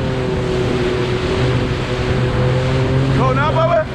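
Jet ski speeding across choppy water on Lake Washington, its engine roaring loud and close with heavy wind buffeting the microphone and waves slapping the hull, a voice briefly calling out near the end.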